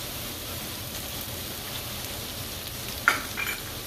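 Butter frying in a pan, a steady soft sizzle and crackle throughout, with a brief clink of a utensil near the end.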